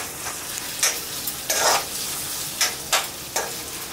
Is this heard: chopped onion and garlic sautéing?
yes